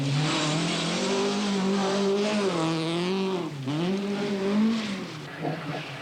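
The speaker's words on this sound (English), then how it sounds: "heading the world's best on the opening special stage at Weston Park is Britain's top hope on the event, Tony Pond in his Vauxhall Chevette" A 1982 Vauxhall Chevette rally car on a special stage at Weston Park, Lombard RAC Rally, roars past with a loud revving engine whose pitch climbs, dips sharply on a gear change, then climbs again before fading.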